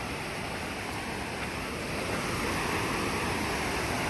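A waterfall beside the Pacific Crest Trail between Hart's Pass and Stehekin roars steadily and close, a constant wash of rushing water with some wind noise and no break.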